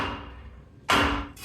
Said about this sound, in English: I'm going to try to hit the sides with a hammer